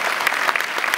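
An audience at a San Diego Comic-Con 2015 panel claps, a short dense burst of applause from a crowd with no talking.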